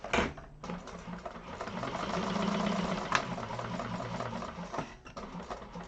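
A sewing machine topstitches a handbag with thick, contrasting Tex 90 thread, running in a continuous close mechanical whir of rapid stitching with brief pauses near the start and end.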